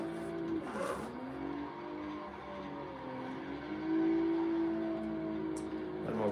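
Stock BMW M3 engine revving hard under full throttle while drifting in Assetto Corsa, a loud sustained roar that climbs and holds, with a brief lift and a tire squeal near the end.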